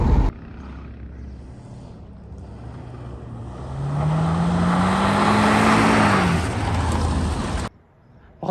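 A 1976 Plymouth Volare drives past, its engine note swelling to a loud, rising pass in the middle before fading, then cutting off abruptly.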